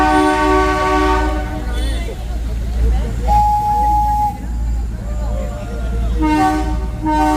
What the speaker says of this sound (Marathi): ट्रेननी पॉ पॉ पॉ हॉर्न मारते